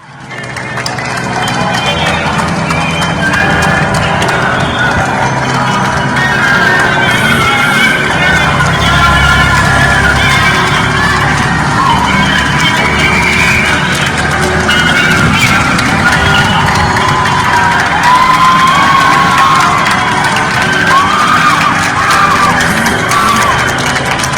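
Neighbours in Peru at 8 pm during quarantine clap, bang, cheer and sound the horn they use for football goals, a dense, steady roar of crowd noise with shouts and tonal blasts that holds loud throughout.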